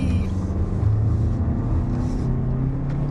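A 2023 Lexus RX with a turbocharged engine accelerates out of a corner, giving a steady, loud low rumble of engine and road noise that continues unbroken through the whole moment, with no talk over it.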